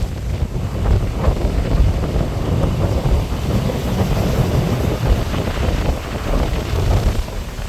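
Strong storm wind buffets the microphone on the seashore at Mathagal, Jaffna, a loud continuous roar with surf rumbling underneath and no voices.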